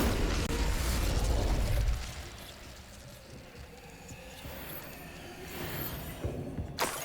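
An Incendio fire spell goes off in Hogwarts Legacy, a loud whooshing burst of flame up front that quickly fades into a softer crackling tail with faint magical shimmer.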